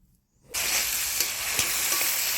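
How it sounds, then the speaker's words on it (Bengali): Tomato paste hits hot oil with cumin and a cinnamon stick, bursting into a loud, sudden sizzle that holds steady and close with no talk. "এখন আমি দিয়ে নিচ্ছি 2 চামচ টমেটো বাটা।"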